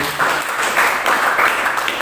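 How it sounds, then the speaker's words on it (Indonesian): Congregation applause during a church sermon, a brief, dense wash of many hands clapping together at steady loudness, without pauses. "Beri tepuk tangan untuk ayat ini."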